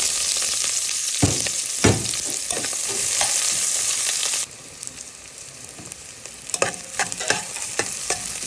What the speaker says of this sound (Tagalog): pagsabayan na po natin yung luya at saka yung sibuyas